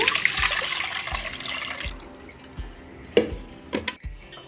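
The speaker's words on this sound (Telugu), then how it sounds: "దీన్ని మళ్ళీ ఇలా స్ట్రైనర్లో వేసుకొని వడగట్టుకోవాలి" Water splashing and draining as bamboo shoots are rinsed in a strainer, a burst of running water followed by a few drips and small splashes.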